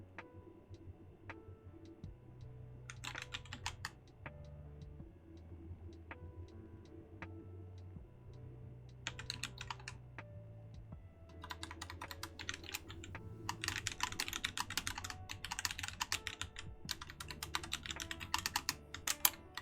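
A computer keyboard clatters in bursts of rapid, close keystrokes separated by quieter gaps, with a low hum running underneath.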